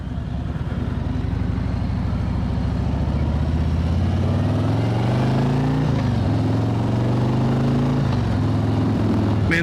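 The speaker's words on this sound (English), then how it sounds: "this Milwaukee 8 is just the perfect amount of power for a bike like this" A 2021 Harley-Davidson Ultra Limited with the Milwaukee-Eight engine heard from the saddle while riding, a deep continuous loaded rumble with shifts in engine pitch and a brief dip mid-ride, loud and steady with no talking.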